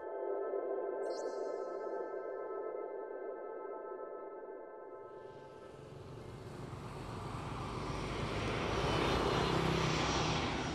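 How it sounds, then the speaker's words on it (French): An airplane from Hong Kong arriving at Hanoi makes a steady tonal engine whine, then a loud broadband jet roar that builds and swells toward the end, with no talking. "un avion en provenance de Hong Kong atterrit à Hanoï, la capitale du Vietnam."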